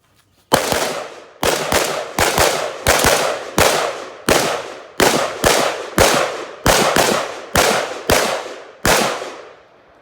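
Rapid gunfire from an HK rifle fitted with V-notch sights, shot while moving: about fifteen sharp, loud outdoor reports in uneven bursts, close and clear with no talking.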